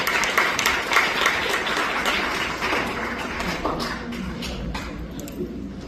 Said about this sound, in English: Coleman with a round of applause